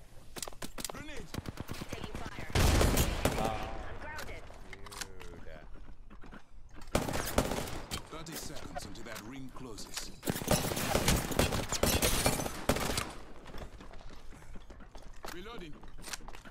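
Bursts of rapid video game gunfire from a shooter game featuring the character Seer, with loud volleys early, in the middle and near the end, mixed with game effects while a voice talks throughout.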